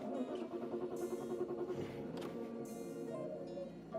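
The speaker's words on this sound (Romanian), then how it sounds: "pornim mașina" A BMW E46 drift build with Stage 1 tuning cranks and starts up, its engine catching and idling close by, with no talk over it.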